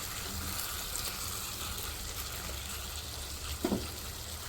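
Ground masala roasts in a pan over low heat, a soft, steady sizzle heard close and alone, with a brief clatter of stirring near the end.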